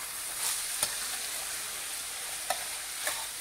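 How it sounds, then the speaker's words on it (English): Saltfish being stirred with fish seasoning in a pan, a quiet steady sizzle with a few soft scraping knocks of the spoon, heard alone without talk. "I'm going to tip a little bit of this fish seasoning in there. Mix it all together."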